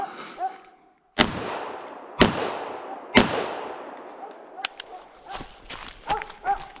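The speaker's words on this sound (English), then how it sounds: "FNX 45 Tactical, first person shoot, and we'll go ahead and go." Three loud, sharp gunshots from an FNX 45 Tactical .45 pistol fired at a range, spaced about a second apart, each trailing off in echo, followed by fainter clicks and handling noises.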